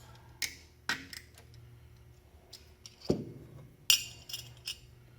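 Metal parts clink sharply a few times, spaced irregularly and fairly close, as the air cleaner is taken off a carburetor in a quiet workshop.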